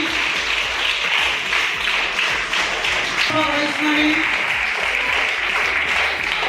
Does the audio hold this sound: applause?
yes